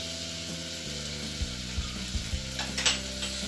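Crushed ginger and garlic fry in a pan with chillies while being stirred, a continuous close sizzle broken by a few soft scraping knocks of the spoon.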